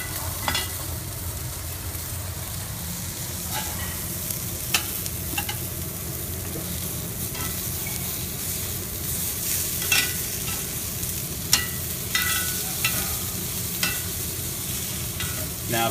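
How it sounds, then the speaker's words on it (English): Asparagus sizzles on a grill in a steady, moderately quiet hiss, with scattered small pops and crackles and light stirring clatter throughout. "we've got some asparagus on the grill too"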